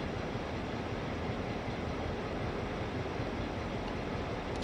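A train in Train Sim World 3 on the Horseshoe Curve runs along the track with a steady, broad rumble and hiss, even in loudness and fairly quiet, with no voices.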